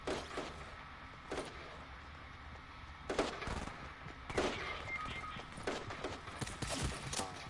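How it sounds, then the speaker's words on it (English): Video game gunfire comes in scattered sharp bursts and single cracks, some closer and some farther off, over a low, busy background. "That guy's shooting me."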